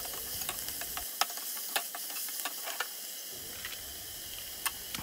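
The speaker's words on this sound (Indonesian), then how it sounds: "Minyak panas, langsung ditumis aja bumbu-bumbu yang dicincang tadi" Chopped spices sautéed in hot oil in a home kitchen give a soft, steady sizzle with faint scattered clicks of stirring, close but quiet.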